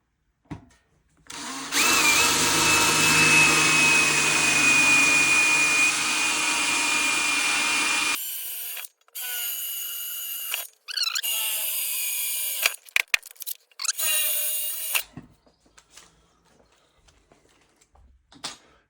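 A power drill fitted with a 4.9 mm bit bores a pilot hole while fitting a VW T6 Jennings seat base, a loud steady whir lasting several seconds, then shorter bursts of drilling, clicks and handling noises.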